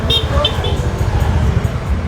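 Road traffic noise on a congested afternoon street, a dense low rumble of nearby engines with a few short horn toots early on, loud and continuous.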